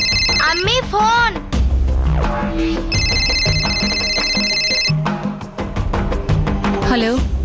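A telephone rings repeatedly in a home, bursts of bright electronic ringing tones over a musical background with voices, loud and close.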